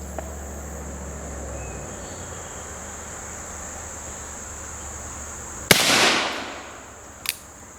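A single pistol shot at outdoor target practice, a sharp crack followed by a brief echo, then a fainter second pop, set against a steady high insect-like hum.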